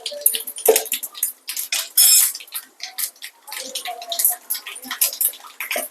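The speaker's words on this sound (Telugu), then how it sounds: "ఇక నూనె వేడైంది. తాలింపు గింజలు వేసుకుంటాం." Tempering seeds tipped into hot oil in a pan for a Manila tamarind fry, with close, loud crackling sizzle and clattering utensil and pan knocks throughout.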